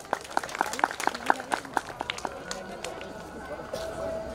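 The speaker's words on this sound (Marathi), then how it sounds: "टाळ्या वाजवा टाळ्या." An audience at a Datta temple event claps in a short burst of distinct, fairly loud claps that thins out and fades within a couple of seconds, leaving a murmur of voices.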